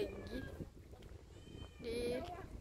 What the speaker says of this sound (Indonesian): ada kucing di situ